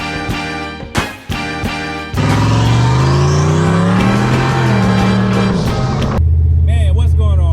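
A Ford Mustang SN95 engine on its first ride of the year: a few sharp thumps, then a loud, steady engine note that rises and dips in pitch, settling into a deeper rumble, with voices briefly audible.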